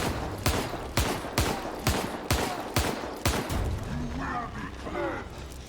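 Rapid, evenly spaced gunshots from a weapon in The Evil Within 2, about six sharp loud blasts in the first half, then quieter mechanical game sounds and faint tonal effects.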